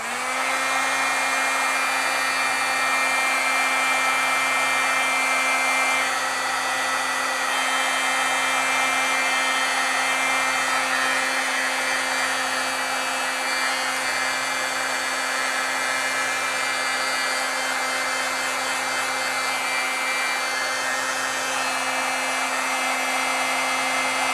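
Hair dryer or heat tool drying oil-based stamp ink, a steady continuous whir with a constant hum that runs loud and close for the whole stretch, with no talk.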